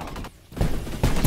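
Rapid bursts of AK-12 rifle gunfire in the Roblox shooter Energy Assault, two dense volleys separated by a brief lull, loud and close.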